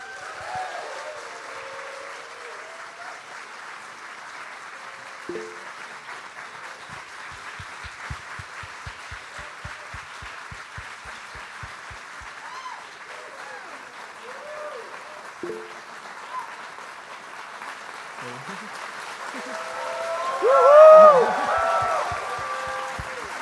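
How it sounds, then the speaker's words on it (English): Audience applause welcomes a presenter onto the stage at a Neuralink event. It holds as a steady, moderate wash for about twenty seconds, with a few scattered cheers and a brief louder swell near the end. "So please welcome with a big round of applause."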